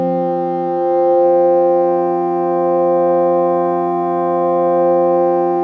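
Arturia MicroFreak synthesizer holding one steady sustained note with wavefolding applied, a bright buzzy harmonic-rich tone that swells gently in level, loud and alone throughout.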